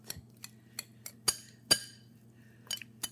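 A spoon mixes cucumber salad in a bowl, giving a series of sharp, separate clinks and taps at an uneven pace over a low steady hum, with no talking.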